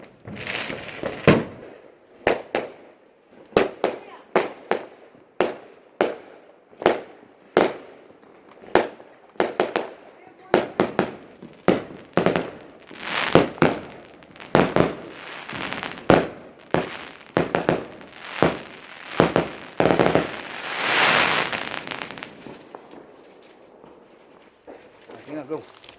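Fireworks and firecrackers exploding at an outdoor bonfire night birthday, with a rapid run of loud, sharp bangs that quickens into a dense crackling burst before fading, while voices talk nearby.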